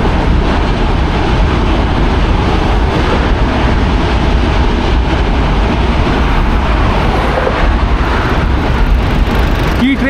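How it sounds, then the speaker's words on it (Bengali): A train rolls across the Rupnarayan rail bridge at Kolaghat, heard from a motorbike on the adjacent road bridge: a loud, continuous rumble blended with heavy wind and traffic noise, holding steady throughout. "আর এই সাইড হচ্ছে ট্রেন,"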